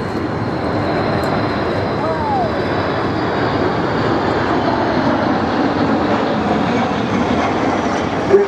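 A Boeing KC-135 Stratotanker air refueling tanker flies past at an air show, making a broad, steady jet engine roar that stays loud throughout.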